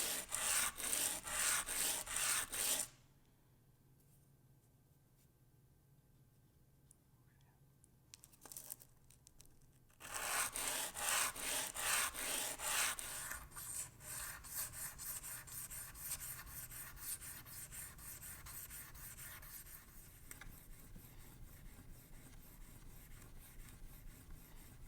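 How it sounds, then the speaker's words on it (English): VPA Omega single bevel broadheads rubbed across a sharpening stone in steady, close scraping strokes, with a quiet pause of several seconds midway before the gritty rubbing resumes and continues to the end. "We're going to give it a try and see how sharp an edge we can put on these VPA Omega single bevel broadheads"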